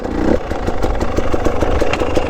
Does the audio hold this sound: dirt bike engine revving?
yes